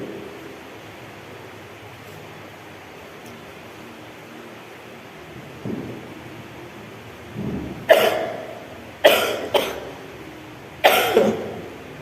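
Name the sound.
coughing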